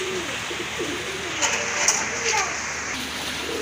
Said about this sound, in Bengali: বিগ সাইজের এক জোড়া সিরাজি কবুতর